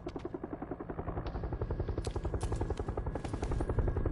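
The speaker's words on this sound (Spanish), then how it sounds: "En el helicóptero por detrás." Helicopter in the PlayerUnknown's Battlegrounds video game, a steady rhythmic rotor chop that stays loud and close for the whole stretch, with sharp bursts that may be gunfire cutting in over it.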